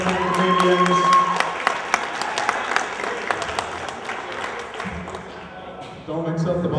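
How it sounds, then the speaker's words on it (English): A comedy club audience claps and cheers in a scattered burst that tapers off, with a voice talking over and after the clapping as the applause fades. "How about a round of applause for everybody you've seen here tonight?"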